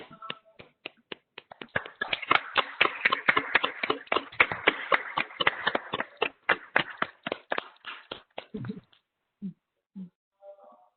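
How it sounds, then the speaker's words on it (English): An online working group meeting of the Climate and Clean Air Coalition gives a round of applause, heard as a dense run of sharp claps. They swell for several seconds, then thin out to a few scattered claps and some faint sounds. "please let's applaud Jenny also"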